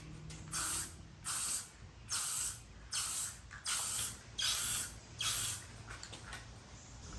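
A can of Valspar gloss clear coat sprays in seven short, even hissing bursts, each about half a second long with brief pauses between them, close and fairly loud.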